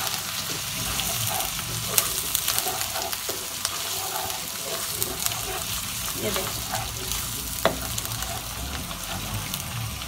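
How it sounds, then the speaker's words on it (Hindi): Dal tarka frying briskly in a pan, a loud, dense, crackling sizzle running throughout with sporadic spoon taps, no voices. "ये देखें जी, बड़ा तेज़ी के साथ हमारा फ्राई हो रहा है।"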